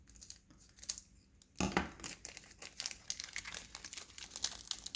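Crinkly plastic wrap on a basketball card pack being torn open, a faint close run of crackling and ripping bursts with one louder tear partway through.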